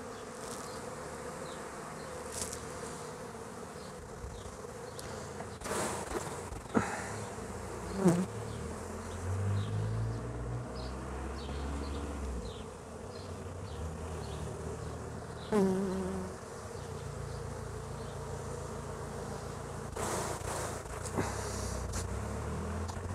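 Bees buzz steadily in a Kenyan beehive, a dense continuous hum of many insects close by with occasional louder passes near the listener and no talking.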